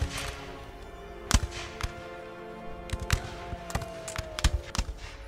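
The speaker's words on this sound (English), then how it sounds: "it's going to be down to a firefight in between our matchlock infantry" Matchlock muskets and cannons trade fire in an Empire: Total War battle of English matchlock infantry and cannon against bowmen, with scattered sharp cracks and dull booms at irregular intervals over a steady background din.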